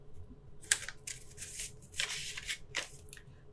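A dried blood spot sample collection card slides into a small paper card envelope, giving several soft papery rustles and scrapes close up and fairly quiet, with no talk.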